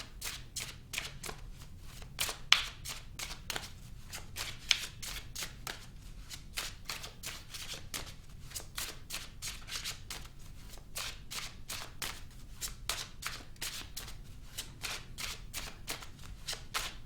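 Tarot cards are shuffled over and over in quick, regular riffling bursts, close and fairly soft, keeping an even rhythm throughout.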